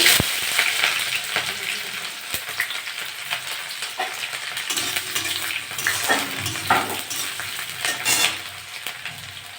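Whole cumin seeds, onion and green chillies fry in hot oil in a pan, giving a loud, steady sizzle with bursts of crackling and the clink of a utensil stirring throughout.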